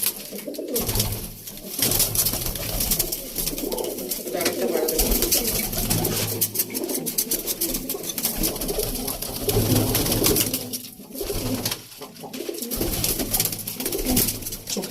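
Pigeons in a pigeon loft coo continuously in overlapping, throaty calls that rise and fall, close by and fairly loud throughout.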